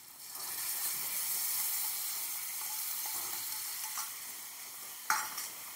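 A spice paste of ginger, cumin, coriander and chilli powder frying in hot oil for chicken kosha biryani, with a steady hissing sizzle and a sharp stirring scrape near the end.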